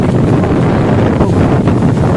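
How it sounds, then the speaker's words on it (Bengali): Strong wind blows during rain, roaring hard against the microphone as a loud, steady buffeting that fills the whole moment with low rumble. "যা হাওয়া দিচ্ছে না"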